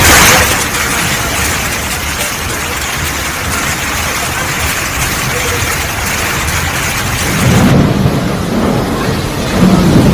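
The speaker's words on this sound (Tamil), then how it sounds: "மேக வெடிப்பால் ராமேஸ்வரம் மற்றும் சுற்றுவட்டார பகுதிகளில் வெளுத்து வாங்கிய கனமழை." Heavy rain from a cloudburst pours steadily over Rameswaram, a dense loud roar throughout, with a deeper thunder rumble swelling near the end.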